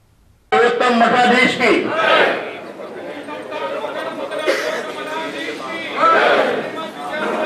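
A crowd of devotees gathers for a swami's Chaturmas discourse at Canacona, a dense, steady murmur of many voices with a few louder bursts of chatter and exclamation close by.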